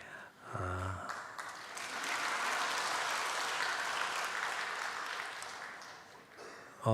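A church congregation at Sunday worship bursts into applause for the birth of a baby boy. A brief vocal sound comes first, then several seconds of full, even clapping that fades toward the end.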